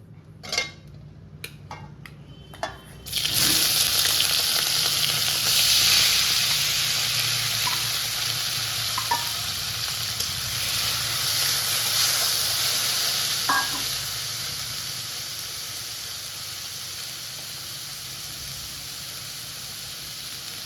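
Prawns drop into hot oil in a pan, a few clinks first and then a sudden loud burst of sizzling that stays strong and gradually eases, with occasional scrapes of a utensil.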